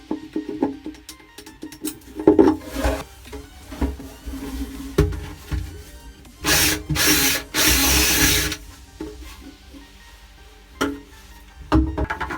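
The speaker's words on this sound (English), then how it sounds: "Next I'm going to mark and drill the holes where I'm going to mount the head of the unit." A power drill bores mounting holes on a boat for a water-separating fuel filter, firing in short, uneven whirring bursts with a longer run near the middle and clattering handling sounds between them.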